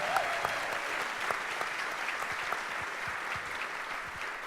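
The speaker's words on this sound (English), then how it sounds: "Let's give her a round of applause." An audience at a Fargo community entrepreneur gathering claps steadily for several seconds, a dense, even wash of applause with scattered distinct claps standing out and no speech.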